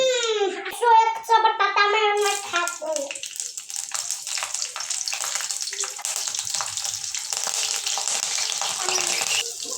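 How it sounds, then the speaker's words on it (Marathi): Green chillies drop into hot oil with cumin in a kadhai and set off a loud, sustained sputtering sizzle that carries on to the end. A voice talks briefly just before the chillies go in. "कढईत तेल गरम करायला घातलेलं आहे त्यात जिरी मोरी घातलेलं आहे आता त्यात मिरची घालू"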